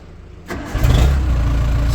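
A Bitelli BB642 gas screed engine cranks and catches after a short quiet lead-in, then settles into a steady, loud low rumble close by.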